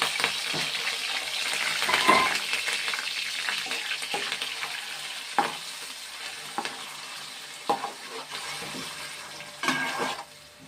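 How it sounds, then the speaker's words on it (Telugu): Onions sizzle and fry steadily in a hot pan for a fish curry (mosulu fish pulusu), with occasional stirring clatters and spatters standing out over the continuous close-up hiss. "ఉల్లిపాయ వేగుతుంది కదండి"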